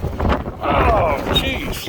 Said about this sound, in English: Hold your ears because the winds are gusting